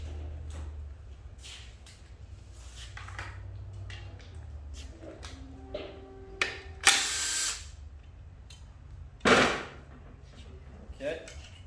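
A 10mm bolt is removed from the oil guide of an M5R1 transmission: scattered metallic clicks, ratcheting and tool clatter at close range, with a few louder bursts of handling noise.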